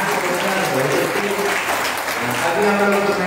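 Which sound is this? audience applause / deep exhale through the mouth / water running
audience applause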